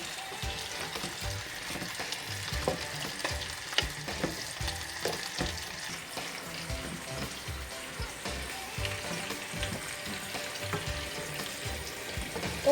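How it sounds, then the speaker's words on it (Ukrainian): Cucumbers sizzle and crackle steadily in a hot pan, with occasional scraping stirs, close and fairly quiet, no voices. "Огірочки вже наші підсмажились."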